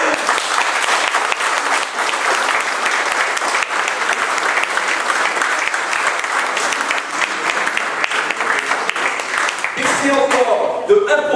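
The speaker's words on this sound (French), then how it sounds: "on peut, là, maintenant, tout de suite, on peut les applaudir" Loud, dense applause from an audience at a French departmental election campaign meeting in Châteauneuf, honouring the town's officials, sustained clapping that fills the room before dying away as a voice returns at the end.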